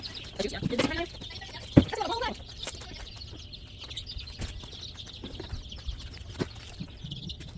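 Cornish Cross and ISA Brown chickens cluck softly and intermittently nearby, with a faint high ambient chirping running throughout and an occasional sharp knock.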